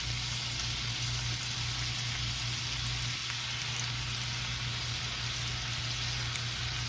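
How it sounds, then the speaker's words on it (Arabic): Kebab frying in a pan, a steady, close, continuous sizzle with a constant hiss throughout and no voices. "وراح أكمل قلي الكباب، كل الكمية راح أشويها بهالشكل هذا."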